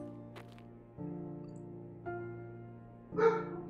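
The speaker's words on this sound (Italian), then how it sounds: "Spavento cane!" A dog barks in a horror video game as a jump scare, a single sharp bark near the end, sitting over a low sustained musical drone with brief earlier accents.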